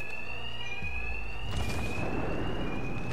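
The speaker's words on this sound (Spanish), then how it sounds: "Estos matones no pueden oír nada por las alarmas, igual que los otros." Alarms ringing in the video game Batman: Arkham Knight, a steady high electronic tone sounding continuously with game rumble and noise building beneath it, no voices.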